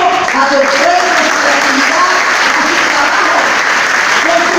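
Students, parents and teachers applaud at a school entrepreneurship fair awards ceremony, loud continuous clapping filling the hall, with voices audible beneath.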